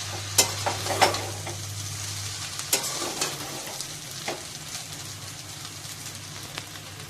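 Salted veg Hakka noodles are tossed gently in a hot pan, with light clicks and scrapes of stirring over a low sizzle and a steady hum through the first seconds.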